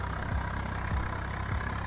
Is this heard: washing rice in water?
no